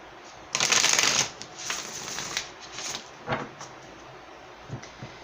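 Tarot cards shuffled up close, a loud riffling burst followed by several softer slides and taps of the deck.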